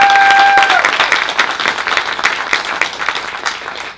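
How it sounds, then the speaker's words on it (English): Audience applause at the opening plenary of a Japanese American community conference, steady dense clapping from a crowd at close range that thins and fades toward the end, with no speech. "Can we give another round of applause?"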